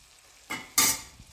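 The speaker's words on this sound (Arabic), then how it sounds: "هلا بنحرك مثل ما انتم شايفين" A pot of white beans cooking in oil gets a short stir, giving two quick scraping, sizzling swishes close by with no talking.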